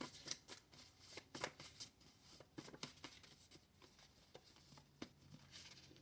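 Tarot cards being shuffled by hand, a close, quiet run of rapid riffling flutters and soft slaps in uneven bursts, no speech.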